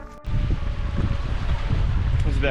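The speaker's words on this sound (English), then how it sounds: "It's so windy." Strong wind outdoors in the Everglades of southern Florida, a continuous loud rushing buffeting the microphone after a brief quieter start, with a faint voice beneath.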